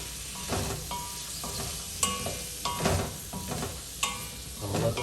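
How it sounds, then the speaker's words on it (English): Vegetables sauté in a pan with a soft, steady sizzle, broken by several stirring scrapes that rise and fall at a close, moderate level. "I'm gonna let the stuff saute for a bit."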